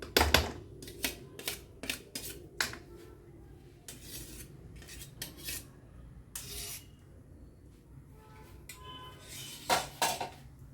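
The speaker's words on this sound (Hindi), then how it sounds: "अब इस कड़छी से सारा ये मक्खन निकल जाए" A metal ladle scrapes homemade butter into a hot kadhai while making desi ghee from malai, heard as repeated close clinks and scrapes of metal on metal in irregular bursts, with no talking.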